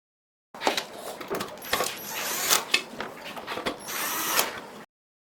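A power drill drives screws to reinstall an RV roof vent operator from inside the vehicle, giving several short whirring bursts with clicks and rattles between them, close and moderately loud.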